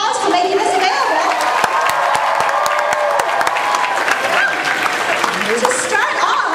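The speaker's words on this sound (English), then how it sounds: "So let's give them a round of applause for making this available." Applause fills an Anime Expo 2014 panel hall for the VIZ Media Sailor Moon panel, a large audience clapping continuously with scattered cheers and shouts, loud and close throughout.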